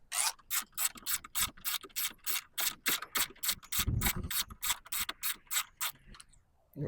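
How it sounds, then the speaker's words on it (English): A ratchet with a small Torx T30 socket bit clicks steadily in rapid, evenly spaced bursts while backing out a bolt, close up and alone. "Got the tool right here, the T30. It's a little socket bit."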